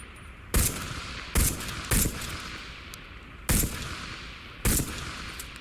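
Gunfire in the VR video game Into the Radius 2: five sharp, controlled single shots spaced about a second apart, loud and close over a steady background hum.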